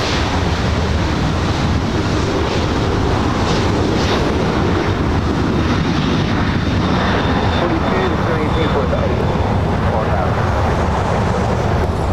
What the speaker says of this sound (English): the 777-200ER heading back to London Heathrow